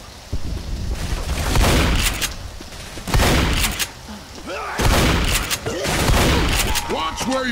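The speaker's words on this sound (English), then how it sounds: "Watch where you're shooting!" Gunfire in the zombie shooter Left 4 Dead, sewer level: bursts of shots come in three loud clusters, each dense and crackling, with players talking over the firing.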